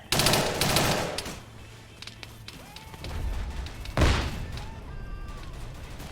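Automatic gunfire in the Vietnam-era game SOG as a soldier dumps a full magazine: loud rattling bursts open the clip, then a second heavy burst near the end, with distant battle noise in between.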